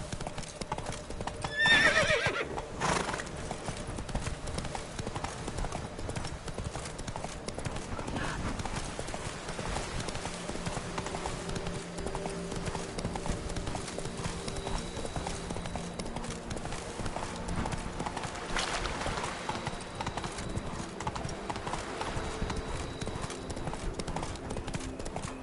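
Roach the horse galloping in The Witcher 3, steady clip-clop hoofbeats drumming throughout with a brief neigh early on, close and continuous over light background ambience.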